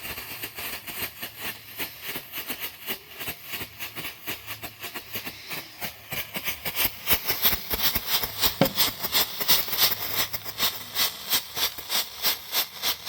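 Two small fireworks fountains, a Black Cat flash and a Disco flash, burn side by side, giving a steady loud hiss with rapid crackling pulses that grow denser and more intense in the second half.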